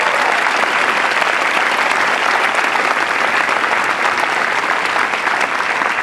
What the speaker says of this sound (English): How about a round of applause for all the family members?